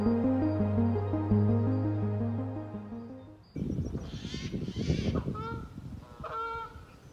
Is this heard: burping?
no